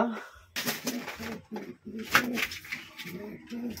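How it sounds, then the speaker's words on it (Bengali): A biscuit-coloured male pigeon coos repeatedly up close, giving a run of low, throaty rhythmic coos with brief pauses between them. "এই যে বিস্কুট কালারের নর পায়রা প্রচন্ড অ্যাগ্রেসিভ"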